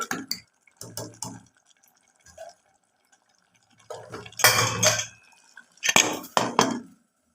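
Metal lid clanks onto a pot of mutton curry with tomatoes, in a few sharp bursts of clattering separated by quiet gaps, close and fairly loud.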